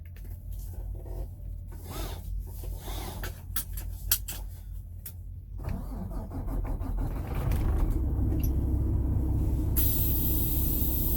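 A truck idles slowly through a truck stop parking lot, giving a steady low engine rumble with rattles and clicks that grows somewhat heavier and louder toward the end.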